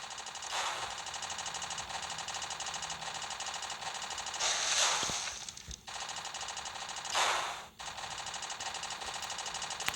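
Cannons firing in the Tactical War game: three loud blasts in a row, one early, one near the middle and one later, each ringing out over a steady mechanical game drone.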